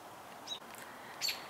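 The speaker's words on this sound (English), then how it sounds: "These little birds are still out here." Small wild birds, some of them babies, give faint, brief chirps outdoors, two or three thin tweets heard at a distance over steady background noise.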